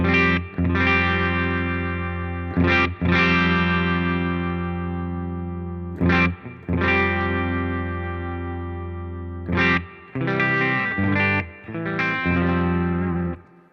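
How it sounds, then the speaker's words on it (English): Electric guitar chords ring loud and sustained through a Strymon Sunset dual overdrive pedal as its tone control is swept, with brief gaps between strums and no talking. "I'm just going to play with the tone control a little bit so you can hear how powerful the tone sweep is."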